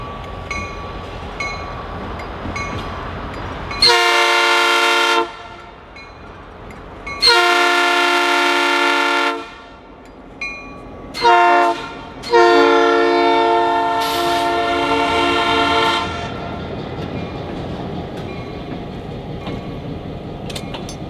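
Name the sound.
Southern Railway locomotive 5000 pulling a single covered hopper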